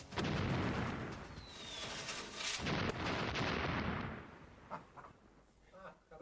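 Cannon fire from a ship, a heavy booming blast that rolls into a long rumbling roar and slowly fades, with faint later noises and a quack-like squeak near the end.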